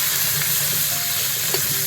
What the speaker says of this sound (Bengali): মাছের মাথা দিয়ে ছেঁচড়া তৈরি করতে গেলে মাছটাকে ভালো করে ভেজে নিতে হবে।